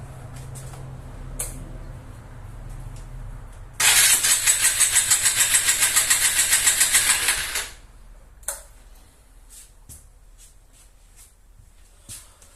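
A hot Honda XR 150L motorcycle engine cranks over for about four seconds during a compression test, a fast rhythmic mechanical chugging that stops abruptly, followed by quiet clicks and shuffling.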